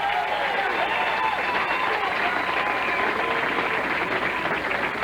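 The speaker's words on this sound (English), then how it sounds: "Crowd getting into it, trying to boost the bowlers a bit." Bowling crowd at a 1998 PBA National Finance Challenge match, a steady wash of applause and cheering filling the hall throughout, with voices mixed into the noise.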